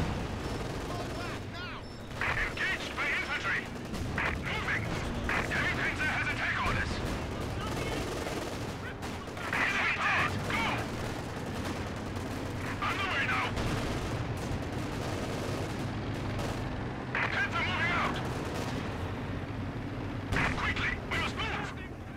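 Rocket artillery salvos and battlefield gunfire in Company of Heroes 2 on the Port of Hamburg map, with repeated bursts of rapid launches and explosions rising over a continuous rumble of combat.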